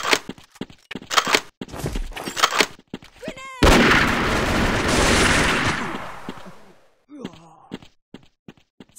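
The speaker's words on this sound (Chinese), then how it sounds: "小心手雷！" A grenade blast followed by gunfire in a mobile shooter game, with a loud sustained explosion roaring mid-clip between scattered shots and clicks.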